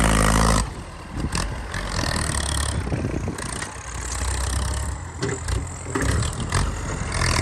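A loud Ford 6610 tractor engine running nearby, a rough rumbling drone that rises and dips unevenly throughout with no speech.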